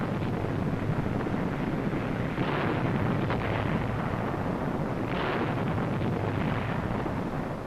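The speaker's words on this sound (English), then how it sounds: "the beaches were brought under direct fire from rockets delivered from LCI gunboats" Rockets fired from LCI gunboats pound a Guam landing beach in 1944, a continuous dense roar of distant blasts and rumbling with a couple of swelling bursts, under steady wind-like noise.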